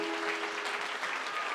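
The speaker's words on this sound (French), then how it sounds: "Acclamons le Seigneur." A church congregation applauding and cheering during a lively service in Paris, dense steady clapping throughout a short burst, with a faint tone sustained underneath.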